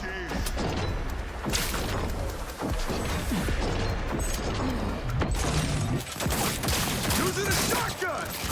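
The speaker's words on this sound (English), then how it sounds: "Using a shotgun." Shotgun fire in a video game comes as a dense, loud barrage of booming blasts and crashes over continuous game noise, with no clear gaps between shots.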